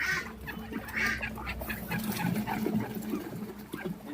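Ducks quack and chatter in a steady background murmur, with occasional louder calls rising above the flock; no one speaks.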